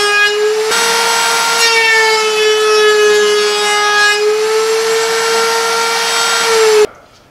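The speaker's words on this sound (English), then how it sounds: "This process needs to be done at a router table, not with a handheld router" A router table spins steadily at a high, whining pitch as it rounds over the edges of a small scrap of wood, holding loud and constant for about seven seconds before cutting off abruptly.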